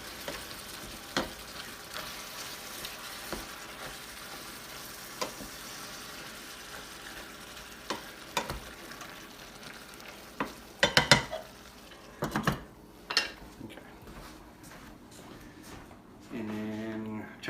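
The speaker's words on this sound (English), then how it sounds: "And we fry these up together. Stirring occasionally." Jimmy Dean or Tennessee Pride hot sausage sizzles softly in a pan, with scattered scraping stirs and clinks through the frying and a louder burst of clatter near the end.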